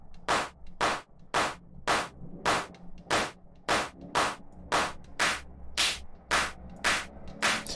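Claps synthesized from pink noise with distortion in Phase Plant, a steady train of about thirteen bright, sharp noise bursts repeating roughly every half second, each hitting hard then fading quickly, with no talking.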